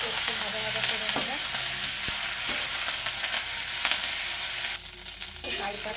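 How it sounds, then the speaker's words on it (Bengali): Curry leaves frying in hot oil in a pan while being stirred, a steady bright sizzle throughout with a few louder crackles, close and alone without any talk. "কারি পাতাগুলোকে একটু ভাজা ভাজা করে নেব।"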